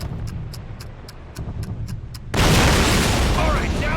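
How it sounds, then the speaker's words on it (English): A cannon fires in Call of Duty's American campaign with one sudden loud boom and a roaring wash of debris and rumble. Faint rhythmic ticking and voices come before it. "This cannon's about to go boom."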